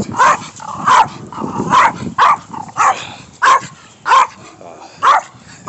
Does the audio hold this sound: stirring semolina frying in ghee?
no